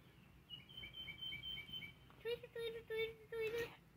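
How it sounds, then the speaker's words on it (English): A bird sings outdoors in a series of short, repeated high chirps and whistled notes, fairly faint at first and then louder and closer, over low background noise. "We're sitting here listening to this bird."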